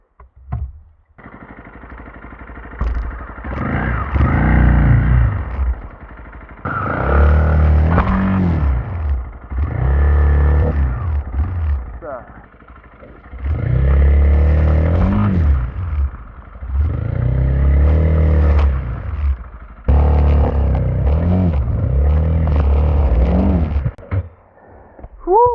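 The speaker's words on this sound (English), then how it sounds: "I could try to force my way through there." A BMW E46 forces its way through debris. Its engine surges and revs in several long pushes, with clattering and scraping from underneath and short pauses between the efforts.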